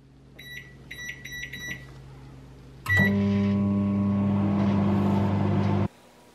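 A few short electronic beeps from a microwave oven, then a steady loud hum with a low drone starts and runs for about three seconds before cutting off.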